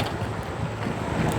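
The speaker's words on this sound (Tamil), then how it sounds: "வெளியில் நல்லா காற்று விடுது," Steady wind rushes and buffets continuously, a broad low roar with gusty swells, no voices present.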